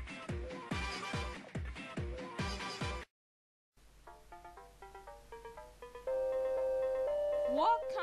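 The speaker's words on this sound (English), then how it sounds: "What kind of phone rings like that?" A musical, melodic phone ringtone in a Super Mario 64 outtake, a rhythmic tonal sequence that stops briefly, then resumes with sustained pitched notes and a rising slide at the end.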